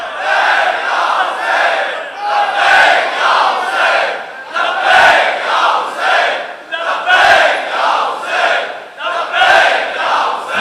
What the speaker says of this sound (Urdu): لبیک یا حسین